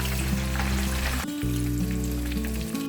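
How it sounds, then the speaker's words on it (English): Tomatoes frying in a pan for Nigerian beans give a steady, loud sizzle that runs the whole time with no one talking, with a short dip partway through, as if the food were stirred. "I'm going to fry my tomatoes."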